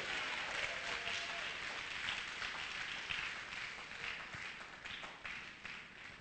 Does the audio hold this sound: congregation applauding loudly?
yes